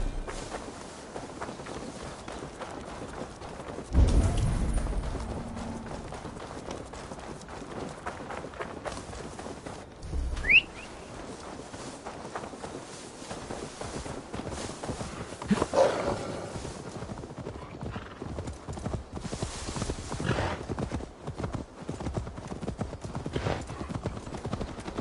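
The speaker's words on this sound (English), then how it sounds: "Now to deliver Magni his horse." Steady clip-clop of horse hooves trotting at a brisk, even rhythm in the video game Assassin's Creed Valhalla, with a few louder thumps and a brief whinny-like sound.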